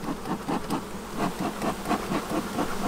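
Honey bees buzz steadily around an open hive during a beekeeping inspection, forming a close, continuous drone that pulses gently throughout with no voices.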